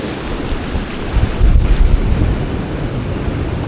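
Wind gusting outdoors by a river dam, roaring as a broadband rumble against the microphone that swells to a stronger gust midway, with no voices.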